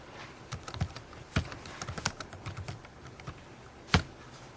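Irregular clicking keystrokes on a computer keyboard, close and fairly crisp, with a few sharper key strikes standing out among lighter taps.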